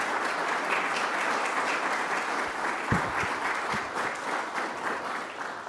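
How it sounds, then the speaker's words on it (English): An audience applauds panelists at a WWI remembrance tribute to veterans, a dense, sustained wash of clapping from a sizeable crowd that holds steady throughout. "Can we just have one more round of applause for our panelists"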